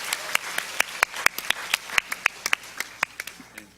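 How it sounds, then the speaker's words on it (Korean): A Sunday service congregation applauds the church choir with steady, brisk clapping that has many sharp individual claps over an even wash of applause in a reverberant hall. "격려 박수 부탁드립니다."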